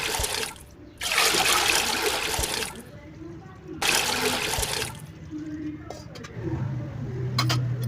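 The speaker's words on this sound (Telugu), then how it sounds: "సో తర్వాత ఒక 2 గ్లాసెస్ ఆఫ్ వాటర్ అయితే యాడ్ చేసుకున్నాను." Two glasses of water pour into a rice cooker in two long splashing gushes separated by a pause, close and fairly loud, followed by lighter clinks and a low hum.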